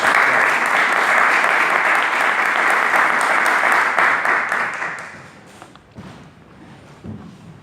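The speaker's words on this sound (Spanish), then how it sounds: "recibirlo con un caluroso aplauso" Warm applause welcoming a speaker at a philosophy course lecture, loud dense clapping that holds steady for about five seconds before thinning into a few scattered claps and thumps.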